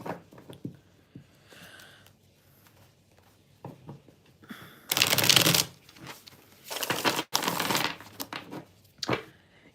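Tarot cards being shuffled in a few bursts of riffling and flicking, close up, separated by quieter handling sounds and pauses.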